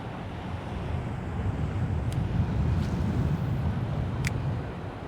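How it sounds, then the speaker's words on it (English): Steady gusting wind buffets the microphone outdoors on the water while fishing, a continuous low rumble that swells in the middle and eases toward the end, with no voices. "The wind's gonna be tough this afternoon."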